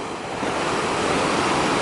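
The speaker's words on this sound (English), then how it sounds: "The waves are clashing" Ocean waves crash steadily along the rocky, sandy Portugal coast, a loud continuous surf roar with some wind noise, no voices present.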